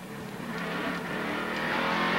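Ricky Rudd's NASCAR race car at the Save Mart 350 road course drones on the throttle, a steady high engine whine that builds slightly louder and more intense across the moment.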